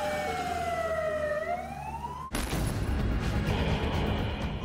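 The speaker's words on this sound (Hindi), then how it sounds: "जगह जगह इमरजेंसी सायरन बजने लगे।" Emergency sirens wail during a missile attack in Ukraine, a clear rising and falling tone for about two seconds that is cut off abruptly by a dense, noisy crackle and rumble.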